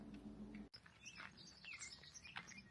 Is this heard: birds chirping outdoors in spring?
yes